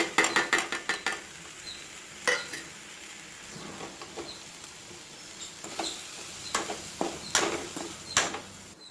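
A spoon stirs and scrapes tomato masala with turmeric and masala powder in a pan, making scattered light clinks and taps with pauses between, close and fairly quiet, with no talking.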